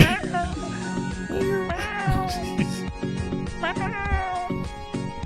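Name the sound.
cat meowing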